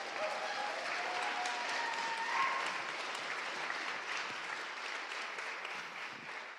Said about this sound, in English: Round of applause for Key.